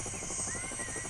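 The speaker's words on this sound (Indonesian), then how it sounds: "Kita bawa helikopter bersama Kirill naik di atas baling-balingnya." A red helicopter's rotor thumps in a fast, steady pulse over a continuous high engine whine, loud and close throughout.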